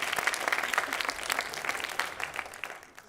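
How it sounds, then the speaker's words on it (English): Audience applause after an Odissi dance solo, dense clapping from a crowd that stays steady and fairly close for about three seconds before tapering slightly at the end. "Please, massive round of applause"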